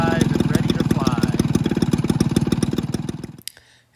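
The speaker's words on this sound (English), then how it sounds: "fire up the engine" The engine of a 1/4 scale ME-109 model plane runs close and loud with a rapid, even pulsing beat, then cuts out abruptly near the end, leaving a faint hum behind.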